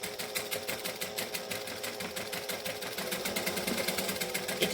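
A sewing machine runs a dress seam over pins while making a Butterick 6094 Christmas dress. It gives a steady, fast mechanical whirr with rapid needle ticking, continuous and close, with no voices.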